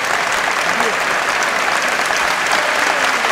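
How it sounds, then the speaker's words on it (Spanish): An audience in a sports hall gives an ovation at a Spanish bowling championship final in Santander, producing loud, dense applause that continues steadily and fills the space. "la ovación para Mario Pinta, el público de aquí del Palacio de Deportes, la gran ovación para el joven chaval de Torrelavega"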